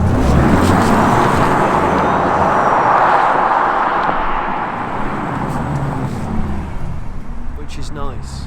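Audi e-Tron GT electric car launching hard under launch control, a loud rising whoosh of motor and road noise that swells then eases, with a person talking over it.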